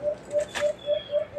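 Alimokon dove calling during a bird hunt, a deep repeated cooing with soft, evenly spaced notes at a moderate distance and a brief flutter of wings partway through.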